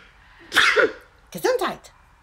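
A single sharp sneeze bursts out close and loud in a workshop during restoration of a 1961 VW split-screen Kombi roof panel, followed a moment later by a second short sneeze-like burst.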